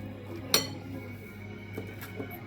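A single clear clink of a utensil against a bowl while fish ball mixture of tilapia and seasoning is stirred, followed by a couple of faint softer taps, quiet and close.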